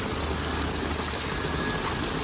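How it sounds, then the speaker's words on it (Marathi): Rain falls steadily in a village, a dense, even hiss of drops striking the surfaces nearby, loud and unbroken throughout with no talking. "पाऊस आलाय."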